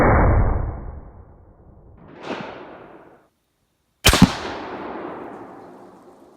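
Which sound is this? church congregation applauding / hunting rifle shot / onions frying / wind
hunting rifle shot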